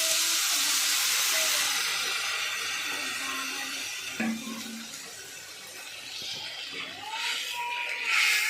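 Water poured into a hot frying pan in a home kitchen where fried dough pieces have been cooking, giving a loud, broad steamy hiss that holds steady for several seconds, then eases and flares again near the end.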